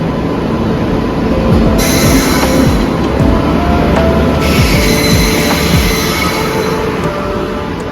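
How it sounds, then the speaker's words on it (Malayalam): A train arrives at a railway station near Ooty, its heavy rumbling and wheel squeal filling the whole stretch, loud and close, with high metallic screeching rising partway through and no talk. "മെയിൻലി നമ്മുടെ ട്രെയിൻ വരുന്നു"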